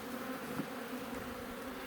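A thick, unbroken drone of honey bees rises from an opened hive of a package colony, close and even throughout without any talk.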